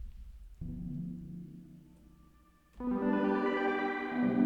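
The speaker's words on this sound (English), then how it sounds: "this arpeggiated crystals, and it's just again from the Opia Bank by Kill September" A dry synth patch called arpeggiated crystals, from the Opia Bank by Kill September, plays without effects: a soft low tone shifts into brighter, shimmering layered notes that swell louder toward the end.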